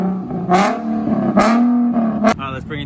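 Nissan 370Z with a custom exhaust revved in short bursts, three sharp rising blips over a throaty idle, close by, with a voice talking over it.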